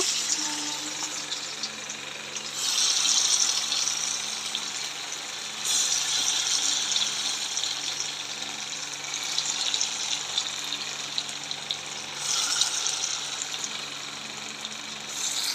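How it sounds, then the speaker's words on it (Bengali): Lentil fritters (bora) sizzle in hot oil, a steady close hiss and crackle that swells louder in several stretches and continues without talk. "তেলটা গরম হয়ে গেছে, এখন বড়াটা তেলের উপরে দেব।"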